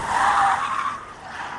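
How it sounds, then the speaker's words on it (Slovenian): A Mercedes car on a slalom test emits a loud, sustained tire squeal that fades after about a second but keeps hissing faintly, with no voices. "Zdaj pa da vidimo, če bo Mercedes spet razmetal."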